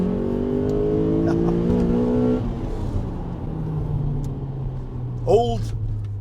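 A Honda JDM Euro R VTEC engine revs hard in a rising climb that cuts off after a couple of seconds, then settles into a lower drone as the car drives on.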